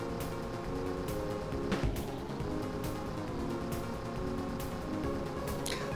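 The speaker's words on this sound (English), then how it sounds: "I've started noticing the engine noise and now it's kind of annoying me." A kart engine held at full throttle in a racing video game, a continuous buzzing drone that shifts pitch slightly as the kart moves, with brief whooshes and clicks from the game over it, no voices.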